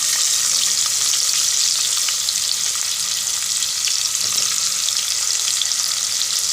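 Onions sizzling and frying in butter with cinnamon, cloves and cardamom, a steady loud crackling hiss throughout with occasional stirring, no talking.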